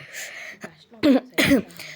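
Someone with a mild cough gives two short, close throat-clearing coughs after a quieter rasp, each a brief harsh burst.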